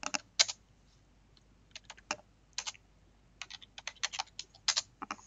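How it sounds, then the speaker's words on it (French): Commands typed on a computer keyboard to configure a network switch: quiet, close clusters of crisp key clicks in uneven bursts separated by short pauses. "sur mon switch aussi, je fais taper des commandes"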